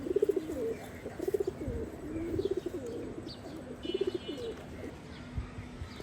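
A female pigeon, long unwell, coos in a loft in short repeated bursts of throaty rolling notes at a steady rhythm, close and clear against quiet background.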